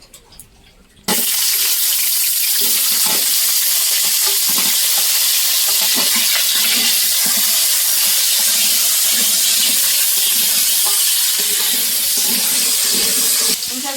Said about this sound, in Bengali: এবার পুঁই শাকটাই ভেজে নেবো তা তেলটা এখন দিয়ে দিলাম